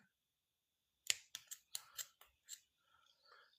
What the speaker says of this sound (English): Trying not to break anything with my scissors while I'm cutting.